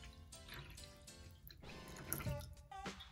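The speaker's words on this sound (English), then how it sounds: "There goes the water." Water poured from a thermos into a small toy pool, uneven gurgling and trickling over a few seconds with a few splashy surges, faint and close, with no talking.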